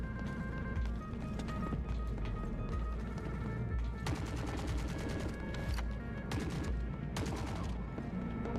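Gunshots in the video game The Forever Winter: repeated sharp reports and rapid bursts of fire over a dense, loud background of game noise and music, with no talk in this stretch.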